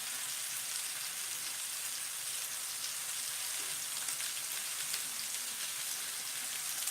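Onions cooking over low heat in a cast iron pan give off a soft, even, rain-like sizzle that holds steady throughout, close but quiet, with no talking.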